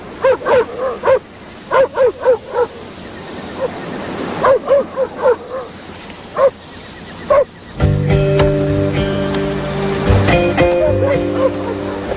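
Several dogs bark and yip in bursts on a beach, a run of sharp woofs with whimpering between them, then a sustained tonal musical passage swells in and takes over the second half.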